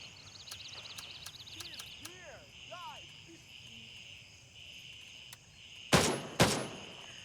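Two sharp, loud gunshots from the military shooter game Gray Zone Warfare, fired near the end over steady insect-like ambience and faint chirping tones.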